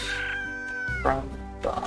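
Chickens clucking and crowing in the farming video game Slime Rancher, a busy run of harmonic fowl calls with a louder squawk near the end, close and fairly loud over game ambience.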